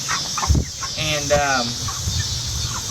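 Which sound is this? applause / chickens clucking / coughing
chickens clucking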